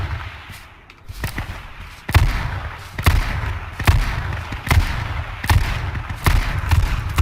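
Shots ring out in a shooter video game, about seven sharp booming reports spaced roughly a second apart, loud and close, each with a short echoing tail.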